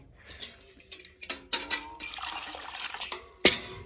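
Water poured from a container to refill the water vessel in a pigeon coop, coming as a series of uneven splashes and gurgles that build to a longer pour and end in one sharp splash.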